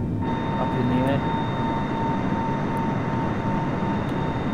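Steady airplane engine drone in a flight simulator game, a constant loud hum with a thin whine just after takeoff, continuous and even throughout with no break.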